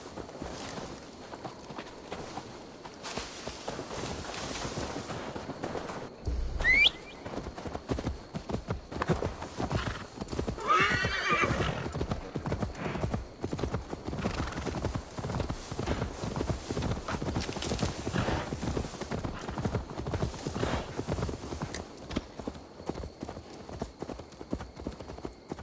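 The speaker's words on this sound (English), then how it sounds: "Now to deliver Magni his horse." Horse hooves clip-clop at a steady walking rhythm in Assassin's Creed Valhalla, a video game, with a brief neigh and some sharper game effects partway through, moderately quiet and continuous.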